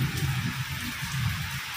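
Steady morning rain falls at about half past seven, a continuous even hiss of drops with no voices or other sounds.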